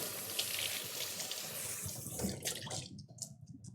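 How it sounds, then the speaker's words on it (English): Cilantro rinsed under a running kitchen faucet, a steady close splash of water that breaks into sparse drips and trickles as the flow stops near the end. "I'm gonna give this a quick rinse."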